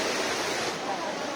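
Duduma waterfall in Koraput, Odisha, roaring as a steady broadband rush of falling water, close and continuous with no clear breaks.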